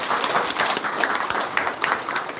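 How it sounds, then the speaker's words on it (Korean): Applause ripples through the audience opening an international symposium marking the 40th anniversary of Venerable Gusan's passing, uneven clapping with individual claps standing out, moderately loud and without speech. "다 같이 박수로 환영해주십시오"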